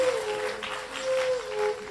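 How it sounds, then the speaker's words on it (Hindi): An audience at a Hindu spiritual discourse claps together, a fairly dense, even patter lasting under two seconds, with a steady sustained tone running beneath it. "बजाओ ताली इस बात पर"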